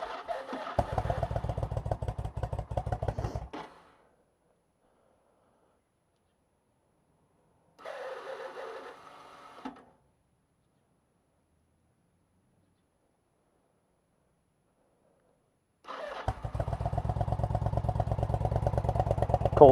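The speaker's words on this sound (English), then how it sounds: "Cold start, hasn't warmed up yet." A 1999 Yamaha V Star 1100 Custom air-cooled V-twin motorcycle cold-starting on a chilly morning, with loud, close, lumpy idle bursts separated by silences, the engine running, cutting out, then catching again.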